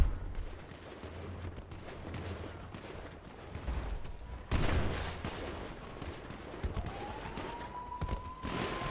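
Gunfire in a GTA V street fight, several bursts of shots popping across busy game noise, with a sharper burst near the middle and a rising engine-like whine toward the end.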